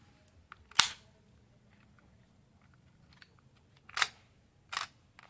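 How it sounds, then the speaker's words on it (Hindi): A vintage film camera fires: a sharp mechanical clack of the mirror flipping and the shutter clicking, heard once and then twice more a few seconds apart, close and crisp in a quiet room. "ये मिरर उड़ गया और पीछे शटर क्लिक हो गया।"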